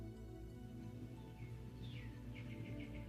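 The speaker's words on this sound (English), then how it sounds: "Can you hear the bird?" A bird gives short chirping calls at a distance, faint but distinct. The calls repeat over a low steady background hum, with no speech.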